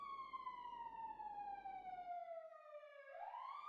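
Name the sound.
sirens outside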